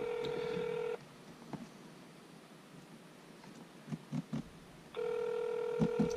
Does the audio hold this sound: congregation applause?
no